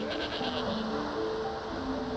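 Goats bleat in a short run of wavering cries over steady background noise on a deserted island, fairly faint and at some distance.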